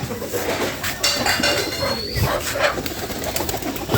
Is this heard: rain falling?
no